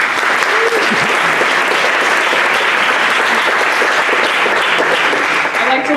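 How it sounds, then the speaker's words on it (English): A large audience at a startup demo day applauds Cohort 6 with loud, dense, continuous clapping that fills the whole stretch, with crowd voices mixed in. "Let's give another round of applause for Cohort 6."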